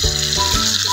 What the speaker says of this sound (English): we are going to fry the other side as well for 4 minutes